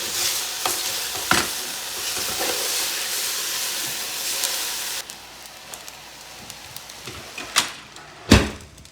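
Pollock fish fries on an aluminum thermal storage cooker, a close, continuous sizzle and hiss that drops quieter halfway through, with a few sharp clatters from stirring or utensils.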